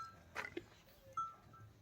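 Goats kept by a village herder bleat faintly in the distance, one brief wavering call followed by a thin second cry, with quiet rural background and no talking.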